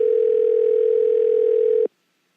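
A steady telephone dial tone plays alone after a handset is picked up in a hotel-room phone in a video game, a single unbroken hum that cuts off abruptly near the end.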